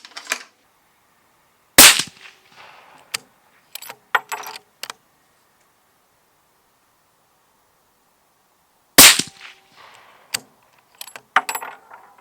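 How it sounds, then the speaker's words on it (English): Two sharp, loud .308 rifle shots from a Browning X-Bolt 2 Nordic Varitech, each a sudden crack followed by a short echoing tail and quieter clicks of bolt handling, spaced several seconds apart outdoors. "The rifle was very comfortable to shoot."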